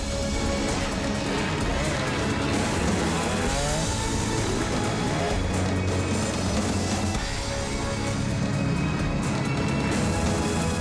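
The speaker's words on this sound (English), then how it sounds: "Going into the final stages of the race, Altus de Vet had caught up to the back wheel of Dwayne Clanhams" Enduro motorcycles race around an Endurocross track, engines revving and roaring loudly and continuously throughout, with occasional knocks and crowd noise mixed in under the motor sound.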